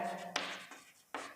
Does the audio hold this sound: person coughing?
no